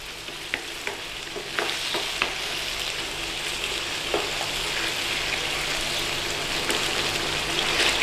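Beef mince and onion sizzle and fry steadily in a pan while being stirred, with scraping stir clicks over a constant loud hiss, close up and without talk.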